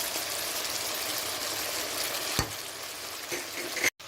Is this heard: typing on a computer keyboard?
no